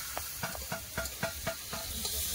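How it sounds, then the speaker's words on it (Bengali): Chopped onion frying in hot oil tempered with five-spice for a rohu fish curry, a quiet hiss punctuated by a quick run of rhythmic spatula stirs and scrapes. "কাটে রাখা পেঁয়াজ দিয়ে দিচ্ছে"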